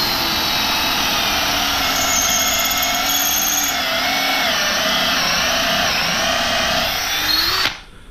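A DeWalt 20V Max Atomic cordless drill whines loudly and steadily as it drives a large bit into hardwood, its pitch wavering slightly under load, then it stops abruptly near the end.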